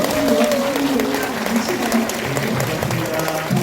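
Audience applause welcoming a priest at a Catholic diocesan gathering in Incheon, a steady wash of clapping filling the hall for a few seconds with some voices faintly mixed in.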